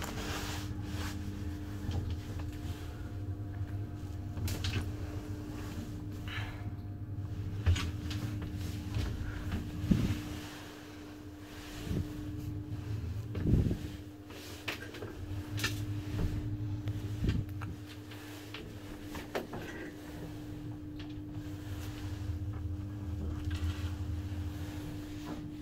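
A new motor on a 1965 Schindler traction elevator in Salerno, Italy, rebuilt in 2009, hums with a steady drone and low rumble, broken by occasional clunks and knocks as it runs.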